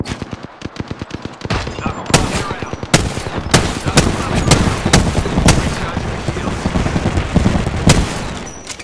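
Bursts of automatic weapon fire in the Apex Legends video game, starting as a fast rattle and then breaking into sharp, loud individual shots and clusters at close range.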